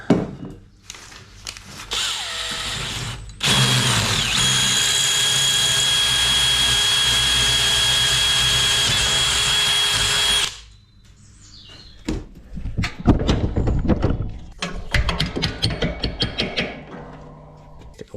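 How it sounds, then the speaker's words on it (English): A drill bores out a bolt hole on a lawn mower during an overhaul, whining loudly and steadily for about seven seconds before stopping. Scattered clatter and handling knocks follow. "So I want to bore that out just a little bit bigger."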